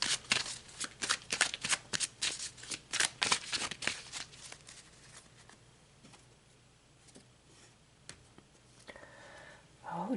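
Tarot cards being shuffled by hand, a rapid run of crisp riffling snaps close up that slows into softer, sparser taps and slides, then a final rustle of cards.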